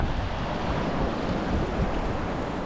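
The Kali river rushes near a hot spring in the Himalayan Kalapani area, a continuous broadband roar of flowing water mixed with wind buffeting the microphone, steady and fairly loud throughout the short stretch.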